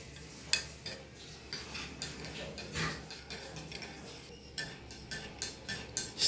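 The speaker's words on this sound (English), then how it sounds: "Stir some more." A spoon clinks and scrapes rhythmically against a cup while sugar is stirred into homemade milk tea, with quiet, close, irregular ticks and taps and no speech.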